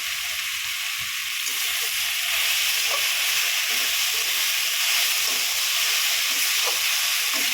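Spices and chili powder being stirred through partly boiled kulekhara greens in a frying pan, with a steady broad sizzling hiss and soft intermittent scraping strokes, close and continuous without talk.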